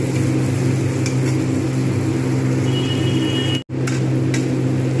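A large onion frying in a pan for a spicy crab masala curry makes a continuous loud sizzle and hiss with a low hum, cut by one brief silence.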